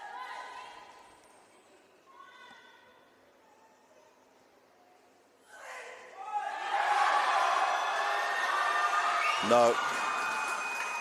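Fiji and Australian fans cheering a weightlifter at a Pacific Games weightlifting event, a quiet arena with a short voice and murmurs before loud sustained crowd cheering and whooping swells up and continues to the end.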